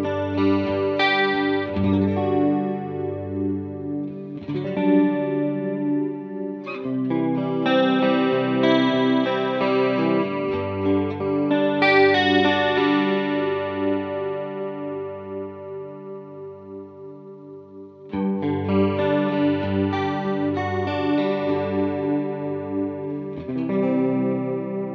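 An electric guitar plays through a chorus effect set to full depth, with chords and arpeggios ringing out wide and warbling in a slightly detuned shimmer, loud and continuous, with a short pause and then a fresh strum near the end.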